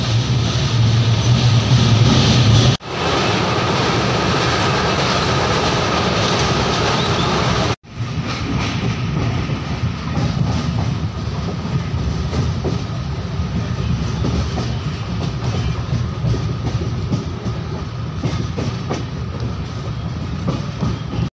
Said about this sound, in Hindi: Train 16 minutes late Bhusawal junction पहुंची है।